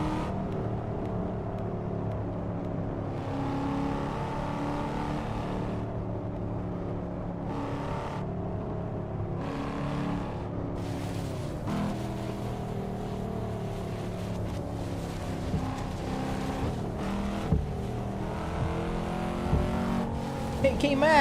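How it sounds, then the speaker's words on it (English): A 2005 Volvo S60R with a 300-horsepower engine, all-wheel drive and six-speed manual, driven in a simulator game, hums and revs steadily throughout, with pitch rising and falling through gear changes and some voice mixed in. "The Volvo S60R 2005. 300 horsepower, all-wheel drive, 6-speed manual transmission"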